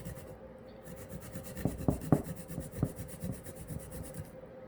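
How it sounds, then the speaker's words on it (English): Large garlic cloves are rubbed across a hand grater in a home kitchen, giving a handful of quick, close scraping rasps in an irregular rhythm over a low steady room hum. "I'm going to grate the garlic in"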